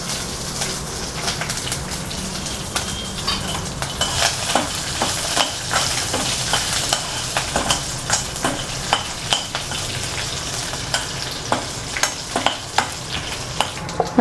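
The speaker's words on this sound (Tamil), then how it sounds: "நம்ம கருவேப்பிலை போட்டுக்கலாம். கட் பண்ணி வச்சுருக்க பச்சை மிளகாய் போட்டுக்கலாம்." Curry leaves and green chillies fry in hot oil after the mustard seeds and urad dal have popped, a steady close crackling sizzle with frequent small spits and pops throughout.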